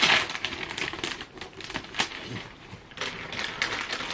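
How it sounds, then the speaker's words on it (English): Gift-wrapped book being unwrapped, wrapping paper crinkling and tearing in close, uneven rustling bursts with brief pauses, no talk. "Let's unwrap it."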